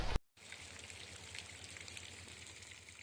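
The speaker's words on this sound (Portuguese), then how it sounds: "Aqui é a cascata de São Juan." The San Juan cascade on Bolivia's Death Road gives a steady, faint hiss of rushing falling water that continues unbroken after a brief dropout at the very start.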